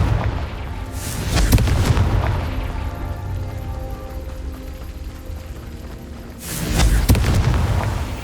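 Confringo fire spell explosions in the Hogwarts Legacy video game, two heavy booming blasts several seconds apart with a rumbling tail between them, loud and close, no talk.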